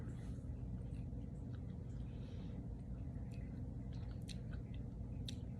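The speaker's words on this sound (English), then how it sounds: "I just scraped off some cookie dough and taste it." Close chewing of a Twix Cookie Dough candy bar, soft squishy mastication with faint crunchy bites over steady low background noise, no talking.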